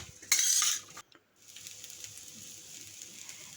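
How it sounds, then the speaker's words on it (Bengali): Leftover cooked rice stir-fried with masala in a pan: a loud burst of spatula scraping and clattering against the metal, then a short pause, followed by steady, softer stirring with a light sizzle. "এবার এই সমস্ত উপকরণগুলোকে একসঙ্গে ভালো করে ভাজা ভাজা করে নেব"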